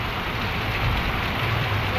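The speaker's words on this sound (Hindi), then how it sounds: "बारिश आ गई है" Heavy rain pours steadily in a town street in Hyderabad Thal, a dense continuous hiss close by with no breaks.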